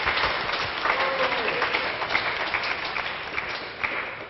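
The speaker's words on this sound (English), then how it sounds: "We can give her a round of applause." A crowd at a Sunday love feast gives a round of applause, steady dense clapping that carries on throughout and fades slightly toward the end.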